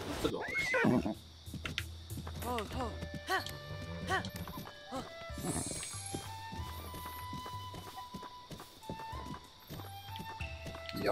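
A horse in Zelda Breath of the Wild neighs in loud whinnying bursts amid clip-clopping hooves and game music, while a person talks over it.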